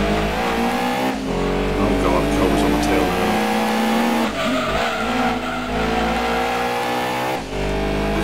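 A Stratos race car in the Gran Turismo 2 video game roars along at speed, its engine loud and constant. Tires squeal as it spins out, with the engine note dipping and rising again through the slide.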